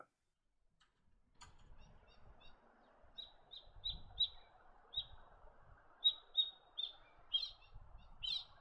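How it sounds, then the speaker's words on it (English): A white-breasted woodswallow gives a run of short, sharp chirping calls that grow louder and more frequent toward the end. Soft low rumbles sit beneath the calls, and no one speaks. "If there are wires overhead, you're bound to see the white-breasted wood swallow."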